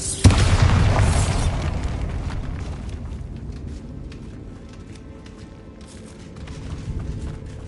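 A Bombarda spell explosion in the video game Hogwarts Legacy: one sharp, loud boom at the start, followed by a long rumbling decay that fades over several seconds with no speech.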